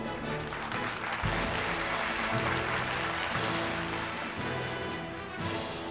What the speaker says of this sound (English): It's time we hear a cheer for Raymond Lifestyle Business.